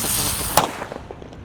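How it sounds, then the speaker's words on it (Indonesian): A single sharp bang from a green Terrator firecracker cracks out, followed by a few faint scattered pops and echoes fading away outdoors. "Di sini ada mercon Terrator, tapi warna hijau guys."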